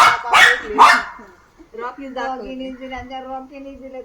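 Two loud, sharp dog barks ring out close by, followed by a person talking.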